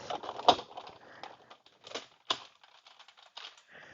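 Paper die cutting on kraft card for an ATC scrapbooking card: crisp crackling, crunching and clicking bursts come in an irregular sequence, close and fairly quiet, with no talking.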